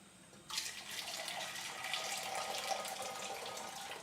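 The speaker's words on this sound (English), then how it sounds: "and then we do our aerating pour back in." Tea poured back into a mug to aerate it, a steady liquid stream splashing continuously for about three and a half seconds after a quiet start, close and fairly soft.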